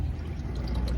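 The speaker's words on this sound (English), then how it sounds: "There comes some oil." Engine oil, still mixed with a little water, drains steadily from an engine in a Japanese mechanic's workshop, making a close, continuous pouring splash with no break.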